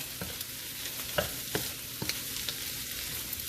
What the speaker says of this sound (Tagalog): Hintayin lang natin mag-golden brown yung garlic din.